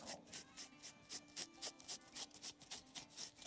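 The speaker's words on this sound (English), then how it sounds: "we're gonna get a cloth, and I'm gonna go all over it" A cloth rubs over a napkin-decoupage shabby chic Christmas hanging decoration, dusting off excess powder in a quick series of close, soft, brushy strokes with a steady rhythm.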